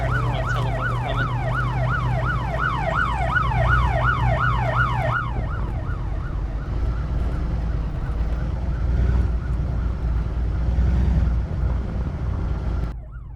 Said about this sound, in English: I love the siren